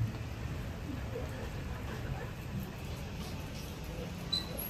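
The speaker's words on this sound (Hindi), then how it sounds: "बारिश हो गई" Steady light rain falls outside a restaurant, a soft continuous patter at low level throughout.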